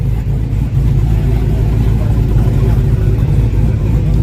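A Monte Carlo fitted with a new fuel-injected motor runs loud and close with a steady, deep engine drone that carries through the full stretch, with no distinct rev spikes.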